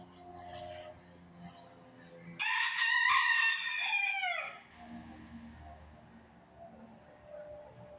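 A rooster loose in a laundromat lets out one loud, close crow in the middle, with softer clucking and people talking before and after.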